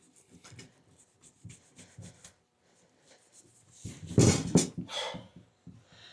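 A rag scrubbing grime off a barn-find Harley-Davidson Road King motorcycle part with WD-40, heard as short rhythmic rubbing strokes that build into a louder, denser burst of scrubbing before tapering off.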